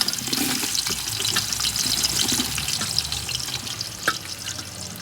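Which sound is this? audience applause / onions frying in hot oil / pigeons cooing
onions frying in hot oil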